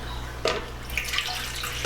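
Warm water splashes into a mixing bowl holding sugar and yeast for hearty white bread dough, a brief close pour with small trickles over a low background hum.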